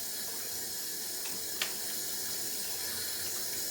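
Tap water runs steadily onto a scrubber to wet an artist's paint brush for cleaning, a constant close hiss with one brief sharp splash partway through.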